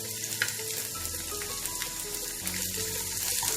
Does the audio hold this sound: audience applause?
no